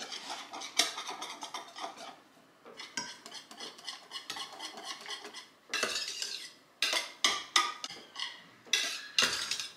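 Utensil scraping and clinking against a pot while stirring butter as it melts for a pudding dessert, steady irregular strokes close up with short pauses, no talking.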